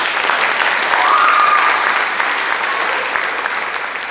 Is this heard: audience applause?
yes